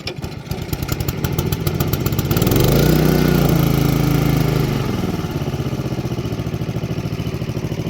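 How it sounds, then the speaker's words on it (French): A Honda HRB 536 lawn mower's small engine sputters, catches on one cord pull and revs up, then settles into a loud, steady mechanical clatter close by. "Et je mets un seul coup de corde, elle démarre."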